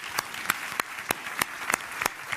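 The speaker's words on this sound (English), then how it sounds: "I would like to give a big applause to all the daring people who organized this" Sparse audience clapping at a social business book launch event, a few distinct claps in a slow, uneven rhythm rather than full applause, fairly quiet and alone.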